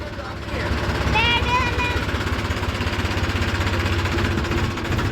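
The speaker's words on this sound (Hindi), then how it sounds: "ये देखें बाहर ट्रैक्टर आ लिया है" A tractor arriving outside a house rattles with a steady, close diesel chugging and knock throughout, while a person speaks over it briefly.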